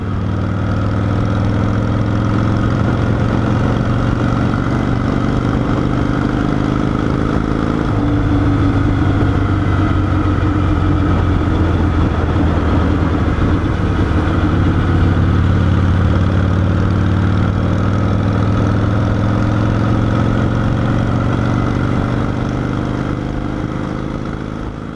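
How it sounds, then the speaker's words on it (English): A restored AMF Shovelhead Lowrider motorcycle engine runs steadily for the full stretch, sounding dull and muffled from inside a sealed camera case, with a low continuous drone that shifts pitch slightly as it changes speed. "The bike is muffled because it is in the sealed GoPro."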